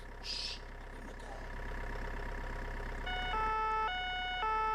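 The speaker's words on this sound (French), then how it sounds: "T'as entendu quelque chose? chut, le moteur." A boat motor runs as a low, steady hum, faint at first, on the Loire river. Near the end, stepped siren-like tones join it.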